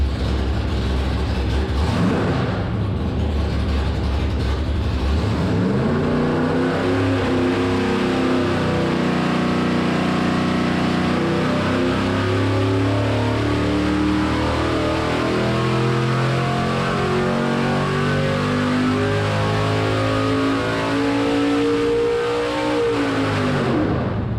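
A Dart 400 small block Chevy engine on a dyno, loud and close, idles briefly, then winds up in a long climbing full-throttle pull that holds a sustained high-rev roar.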